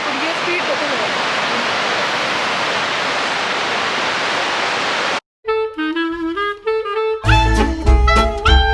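Niagara River water flowing in a steady, loud, dense rush for about five seconds, then cutting abruptly to music.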